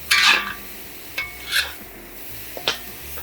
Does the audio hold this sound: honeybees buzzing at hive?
no